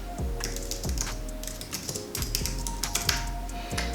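Typing on a computer keyboard, close and clear, with a quick, uneven patter of key clicks broken by a few heavier taps.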